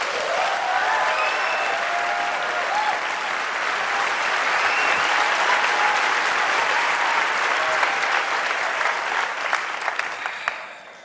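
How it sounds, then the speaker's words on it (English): Sustained loud applause from a large conference audience after a talk about journalists and the Panama Papers, a steady wash of clapping that tapers off at the end. "I guess we're going to send that applause to the 350 journalists who worked with you, right?"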